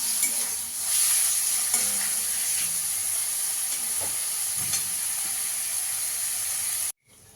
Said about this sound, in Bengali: চিকেনটাকে একটু ভালো করে ভেজে নেবো